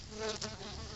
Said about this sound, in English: there's a bee hanging out.